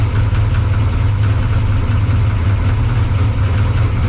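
A 2500hp G-body drag car's engine idles loudly and roughly up close while the car backs up, a deep, lumpy, continuous rumble with no pauses or speech.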